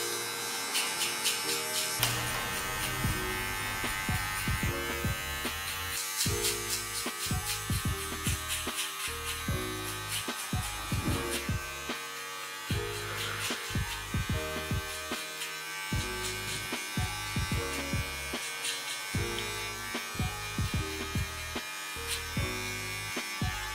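Cordless metal Magic Clip hair clipper cutting hair for a flat top, a steady close buzz with repeated short pulses and drops as the blade works through the hair, continuous and alone without talk.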